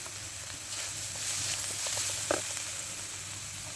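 Spices such as turmeric and chili sizzle softly in hot oil while frying for a samosa filling, a steady close crackle with a few brief stirring scrapes near the middle.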